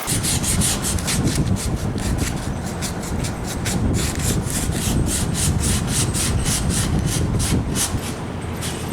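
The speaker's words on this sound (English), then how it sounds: "we're done with our hand sanding" Hand sanding a wooden piece for a rustic trash bag dispenser: steady, rhythmic back-and-forth scraping strokes, close and continuous, with no talking.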